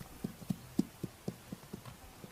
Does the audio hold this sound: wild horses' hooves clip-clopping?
yes